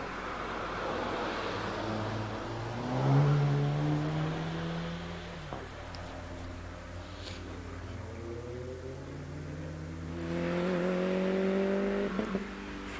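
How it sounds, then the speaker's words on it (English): A Seat Cupra 2-litre car climbing the Prescott hill climb course, its engine rising in pitch through the gears, easing off around a bend, then revving up hard again, heard from a moderate distance. "We now have on the hill the Seat Cupra 2-litre car of Graham Ramsey"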